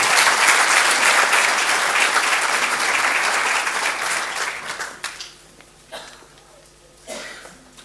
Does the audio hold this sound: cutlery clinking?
no